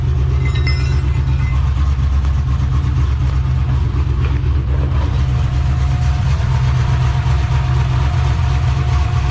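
LSA V8 engine running in a 1972 Chevrolet Monte Carlo project car, a loud steady idle with a deep low rumble throbbing evenly throughout, close by and unaccompanied by speech.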